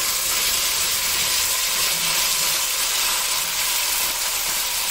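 Pigeon peas added to a pot of Creole sticky rice, a steady loud hiss and sizzle of steam rising from the hot pot, continuous throughout without pause.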